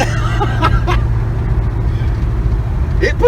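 An LS-swapped Chevy Nova's V8 rumbles low and steady from inside the car during a test drive, with occasional voices and laughter over it.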